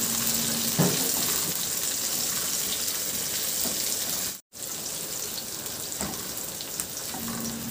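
Onion going into a pan with garlic and ginger for cooking salmon head, a soft steady sizzle with a few light clinks and a brief dropout midway, no speech.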